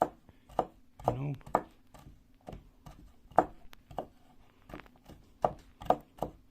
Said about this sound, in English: So we cut it in thin slices